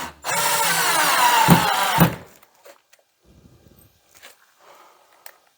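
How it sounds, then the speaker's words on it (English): A long screw gun drives a screw into a wooden wall stud while a guardrail is installed. One close, loud whirring burst lasts about two seconds and ends with a couple of sharp knocks, followed by faint shuffling and handling sounds. "as you put the screws in, as you feel it bite into the wood"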